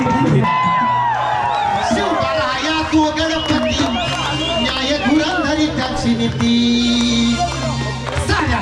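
At a Shivaji coronation anniversary procession, a packed crowd cheers, whoops and shouts close by, loud and continuous, with voices and babble layered throughout.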